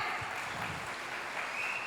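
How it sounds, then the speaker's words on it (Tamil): Audience applause at a stage concert of Murugan devotional songs, given for the parents of a young singer. Steady, sustained clapping from a crowd fills the whole moment without a break, with no voices over it. "அதை அறிவுறுத்திய பெற்றோருக்கு ஒரு நல்ல கைத்தட்டல் கொடுங்க."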